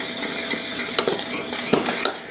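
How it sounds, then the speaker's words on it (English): A spoon stirs butter melting in a pan for a fruit tart's pastry cream, with irregular metallic scrapes and clinks against the pan, close and moderately loud with no voices. "And then toss it in and just stir"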